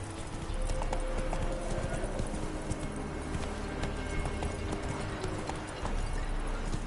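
In The Witcher 3: Wild Hunt, a horse gallops with a steady, fast clip-clop of hooves, loud and continuous over a constant background game soundscape.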